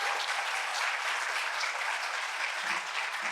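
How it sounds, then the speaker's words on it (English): An audience at a university address applauds a string and piano quartet of violin, viola, cello and piano, producing dense, even clapping that is loud and sustained throughout with no pauses. "let's give violinist Arna Green, violist Vanessa Salache, cellist Patrick Guarini, and pianist Stephen Harris a round of applause."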